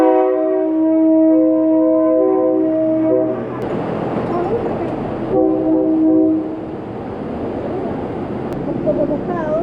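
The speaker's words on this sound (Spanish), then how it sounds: "el tren va lleno" A crowded train rolls slowly through a Bangkok market, its horn blaring in long sustained tones before the loud, steady rumble and clatter of the cars passing close by, with the horn sounding again midway.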